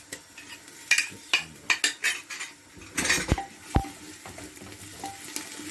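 A spoon clatters against a pot as garlic ginger paste is stirred into frying onions, with sharp metallic scrapes and clinks in irregular bursts over a faint sizzle, close and fairly loud, no talking.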